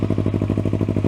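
A Yamaha MT03 running a Leo Vince LV One titanium full exhaust idles up close, its rapid regular thumping beat and deep droning tone holding steady and loud for the whole moment.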